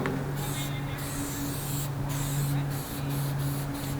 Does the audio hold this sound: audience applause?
no